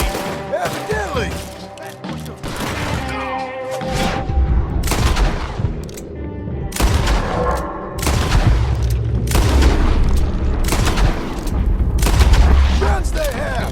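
Gunfire in Red Dead Redemption 2: repeated loud gunshots and volleys cracking through a chaotic firefight, with booms and dense bursts throughout, under occasional speech.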